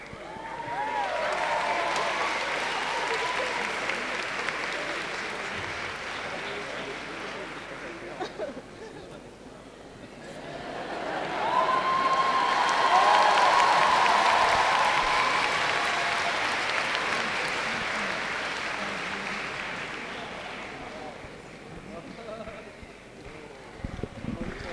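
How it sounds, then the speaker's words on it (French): Crowd at Japan Expo applauding cosplayers at a Fairy Tail panel with the series' creator: dense, sustained applause that dips midway then swells again, with voices and a cheer rising over it. "On peut les applaudir."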